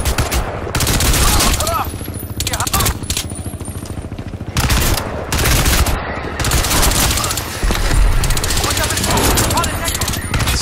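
Gunfire sound effect played back in the Crytek UK game studio, a dense loud barrage of shots and bursts in fast irregular clusters with brief gaps, close and continuous throughout.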